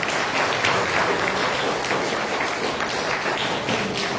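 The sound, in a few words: loud audience applause after performance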